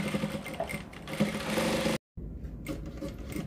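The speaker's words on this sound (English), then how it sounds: "So just take to the sewing machine and stitch." Sewing machine runs in a steady rattling stitch, briefly cuts out, then resumes stitching.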